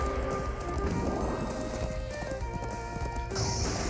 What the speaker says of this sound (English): Bring in the horse.